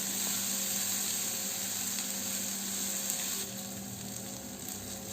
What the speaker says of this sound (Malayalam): ഇനി നമുക്കിതെല്ലാം കൂടി ഒന്ന് വഴറ്റി കൊടുത്ത് സവാളയുടെ നിറമൊക്കെ മാറി വരുന്നത് വരെ ഫ്രൈ ചെയ്യാം.